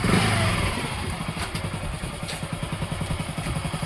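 A motorcycle engine runs steadily near the listener as a beginner practises riding, its low rhythmic putter pulsing evenly and staying loud throughout with no talk.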